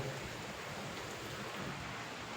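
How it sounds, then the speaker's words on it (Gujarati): Steady, dense rain pouring down without a break, a continuous hiss filling the air with no voices. "કેમેરામાં વરસાદ દેખાતો નહીં પણ બહુ પડે જો"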